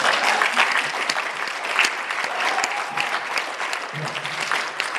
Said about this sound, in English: Let's give them an applause for that